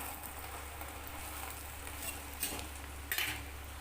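Two kinds of spinach greens being stir-fried for a poriyal hiss in a pan with a soft, steady sizzle, with a few light scrapes and stirring clinks near the end, fairly quiet.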